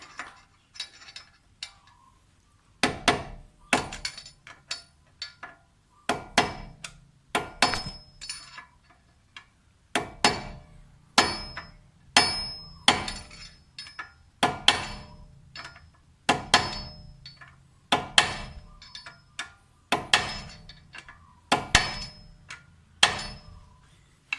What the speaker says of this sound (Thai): สลักตรงนี้ตอกลงครับ